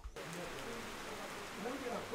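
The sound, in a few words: heavy rain falling on a village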